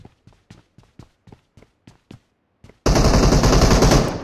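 Gunfire from the mobile battle royale game PUBG Mobile: about nine evenly spaced single shots, followed by a sudden, loud, dense burst of sustained automatic fire that fills the last stretch.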